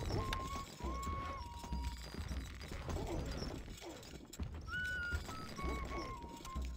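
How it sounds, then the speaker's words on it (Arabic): A horse gallops in the Stronghold Crusader video game, its clip-clop hoofbeats blending with game sound effects, brief tonal chimes and a faint whinny, fairly quiet overall. "الفرس تعدو."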